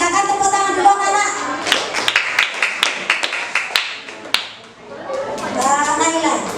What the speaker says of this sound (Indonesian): silakan tepuk tangan dulu anak